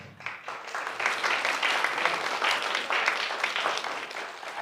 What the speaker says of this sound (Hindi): शुक्रिया अदा करते हैं ताली बजाकर